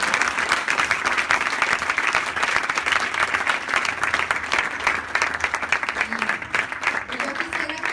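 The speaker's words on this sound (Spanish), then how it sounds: "Pues dale un aplauso al Señor." Applause from a congregation at an annual women's church congress rolls on loudly and evenly, dense clapping from a large crowd with some faint voices underneath near the end.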